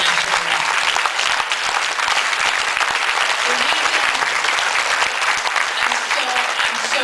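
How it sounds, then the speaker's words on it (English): Audience applause at a Winter Soldier testimony event, sustained dense clapping from a large crowd at full strength throughout, with no pauses. "I'm so grateful for your support and applause"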